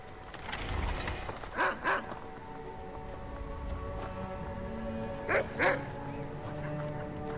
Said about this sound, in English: I've never seen these type of dogs.